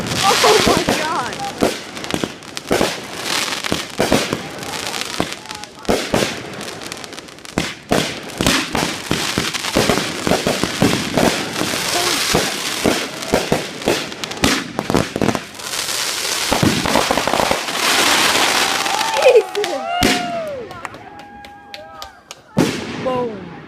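Fourth of July fireworks burst overhead in a dense barrage of sharp bangs and crackling pops, some overlapping rapidly, with whistling rockets near the end and occasional excited voices between blasts.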